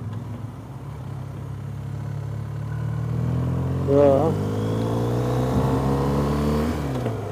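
Steady engine drone from inside a vehicle on a road trip route toward Turkey, with a nearby vehicle passing and rising in pitch midway; a person speaks briefly.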